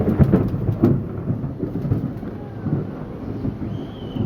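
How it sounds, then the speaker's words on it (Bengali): Thunder rumbling during a storm over a rural yard where ducks and chickens are kept, with a low, heavy roll throughout, a couple of sharper cracks early on and rain noise underneath, no talking. "এই মাত্র বজ্রপাত হলো"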